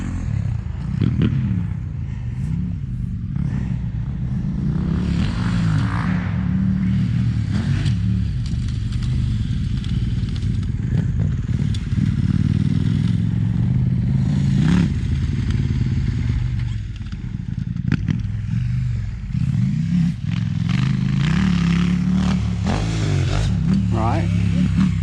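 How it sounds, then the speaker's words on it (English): A dual sport motorcycle runs on a dirt track, its engine droning steadily with revs rising and falling, joined by clattering and scraping, while people talk over it throughout. "Dual sport on the track."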